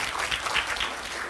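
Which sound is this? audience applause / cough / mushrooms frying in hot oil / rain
audience applause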